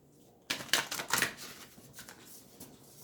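Lightworker Oracle cards by Blue Angel being shuffled by hand, a quick burst of crisp riffling and flicking close up, then quieter card rustles trailing off.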